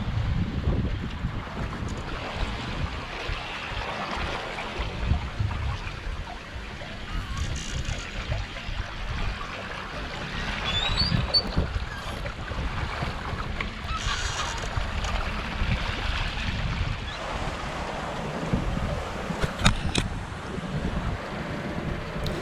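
Strong wind of about 21 knots roars steadily across the microphone over the rush of water against a moving sailboat, with occasional creaks and flaps.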